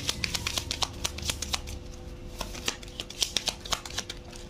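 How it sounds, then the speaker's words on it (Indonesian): Tarot cards shuffled and laid out one by one, a steady run of soft papery flicks and light snaps close up, with no one speaking. "Saya keluarkan dulu 10 kartu."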